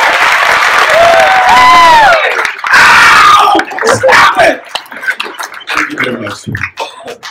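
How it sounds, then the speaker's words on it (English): Audience applause and cheering at a live comedy show, a dense roar of clapping with whoops and shouts for several seconds before it thins out, mixed with talk and scattered crowd noise. "Give Piers another round of applause"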